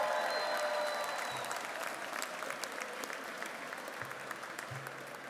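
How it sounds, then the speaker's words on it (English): An audience at an evening Dominican Heritage ceremony in New York City applauds for a local beer company founder, a steady dense wash of clapping that slowly fades, with faint voices underneath. "Let's give Juan a big round of applause."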